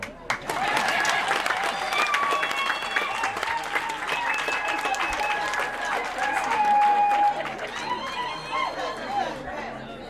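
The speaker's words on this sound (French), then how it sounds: "Applaudissez pour moi d'abord." Crowd applause at a March 2024 International Women's Day launch event in Bwanebwa, sustained clapping and cheering mixed with chatter and high-pitched ululating voices, lasting throughout.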